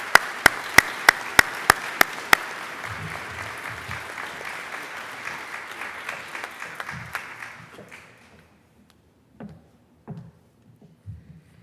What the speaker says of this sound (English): Please join me in applauding the achievements of our graduates from